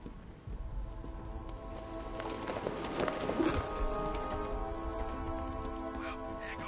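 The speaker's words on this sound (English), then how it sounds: "What's with all the rain?" Steady rain falls in a city in Batman: Arkham Knight, a dense continuous patter on surfaces with a faint tonal hum underneath, growing slightly louder midway.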